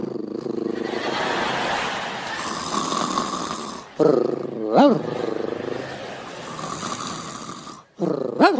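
A man imitates a small dog's growl with rough, snoring-like guttural rumbles and sharp rising yelps, broken by brief pauses, loud and close, mixed into speech.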